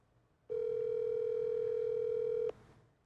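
A telephone call tone during an outgoing call: one steady electronic tone sounds clearly for about two seconds, then cuts off, over a quiet background with no talking.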